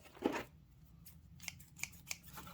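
Scissors open and close with a soft initial snip followed by several quiet, crisp metallic clicks spaced irregularly, close and faint in an otherwise hushed room.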